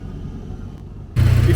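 A Honda Civic with a K20 engine swap runs up to temperature: a steady low rumble near the car, then a sudden jump to a much louder, fuller broadband roar that holds to the end.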